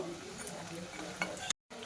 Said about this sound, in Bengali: তো পিঠাগুলো একটু লাল লাল করে ভাজা করে নেব।